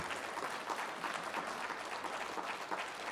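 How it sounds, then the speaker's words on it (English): An event audience gives the preparation team a sustained round of applause, a steady wash of many clapping hands at moderate loudness with no voices over it. "Please give them a big round of applause too."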